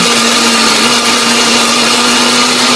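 A blender whirs at steady, high speed, grinding spice paste for Balinese sate lilit, a loud continuous motor drone with no pauses.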